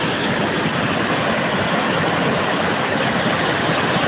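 Heavy rushing flood water after very heavy rain, a loud, steady broadband roar that fills the whole stretch without pause and with no talking over it.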